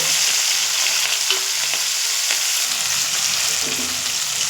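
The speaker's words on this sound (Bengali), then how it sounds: "দেখুন চিংড়ি মাছ তো ভাজা হচ্ছে" Shrimp fry in hot oil with a loud, close, continuous sizzle and crackle that holds steady throughout, with no voices.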